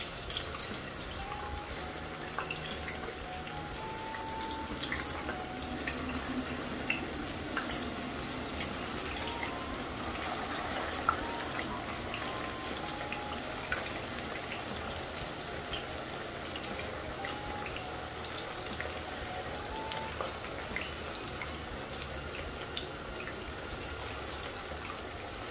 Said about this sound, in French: une fois que notre huile est bien chaude, on va mettre les bananes, tout simplement.